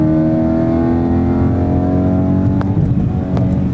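Tuned BMW M3 engine revving hard and loud up through the gears, a steady high-pitched mechanical whine that climbs in pitch, close and continuous with no talk over it.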